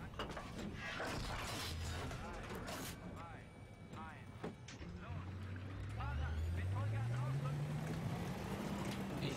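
Tank driving in the Battlefield 3 campaign video game: a steady low engine rumble and mechanical drone that builds and rises in pitch toward the end, with bursts of battle noise and voices talking over it.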